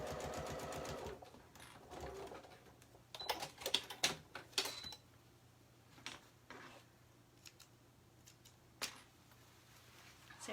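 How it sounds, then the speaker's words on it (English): A sewing machine bastes a fly extension in place for an Allegro garment, running in short bursts of quick stitching with pauses and small handling clicks between them, close and moderately loud. "I'm just going to take it to the machine real quick and baste"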